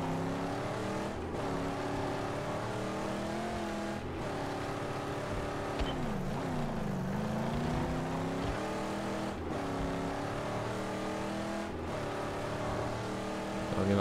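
A car engine in Mad Max drones steadily for a long stretch, with pitch rising and dipping as the throttle is worked, loud and close with no speech.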